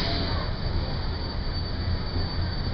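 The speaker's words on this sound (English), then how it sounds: "it's just the train comes out the other side" Magic Kingdom theme park train passing, a brief continuous rumble with faint wheel squeal, fairly close and steady.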